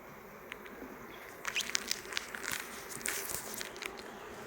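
Honeybees at an opened hive during an inspection, a faint steady buzzing hum with soft crackles and light handling noises nearby, with no speech.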